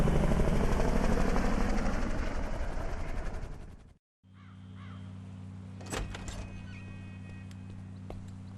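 In GTA Online, a helicopter lifts off. Loud, dense rotor and engine roar fills the first half, cuts out suddenly, then gives way to a quieter steady hum with a few brief clicks.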